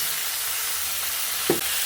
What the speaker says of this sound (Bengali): পেঁয়াজটা একটু ভাজা ভাজা হলো, এখন আমি মশলাটা দিয়ে